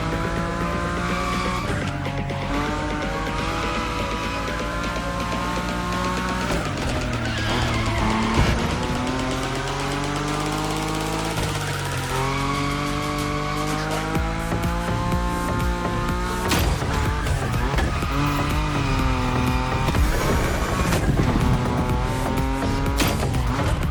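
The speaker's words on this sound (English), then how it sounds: "Your Nismo is powerful enough to slide along on its own when you're at high speed" A powerful Nismo slides at high speed in The Crew Motorfest, with a loud sustained engine roar and squealing tires, the pitch rising and falling through gear changes over a long stretch.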